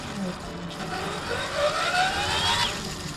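A Blade 330S RC helicopter's electric motor spins up, a thin rising whine climbing in pitch over a few seconds against a faint background rumble.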